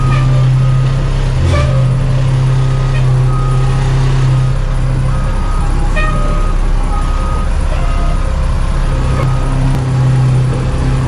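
An old fire truck backs up with its engine idling low and steady, a rough mechanical drone, while a few faint, brief beeps sound at intervals over it.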